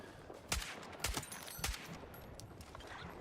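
Gunfire in the video game Battlefield, faint and distant, with a few separate sharp shots spaced about half a second apart, then quieter crackling.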